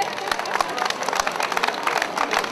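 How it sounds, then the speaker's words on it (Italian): At a trout festival prize-giving in Valbrona, Italy, a crowd applauds the placed winners with steady, crisp hand claps at moderate loudness, some sharp individual claps standing out over the general patter. "un bel applauso"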